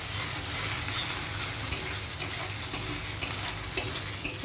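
Onion and spice pastes of green chilli, cumin and ginger frying and sizzling in hot oil for a fish curry, a steady hiss with occasional stirring scrapes, no talking.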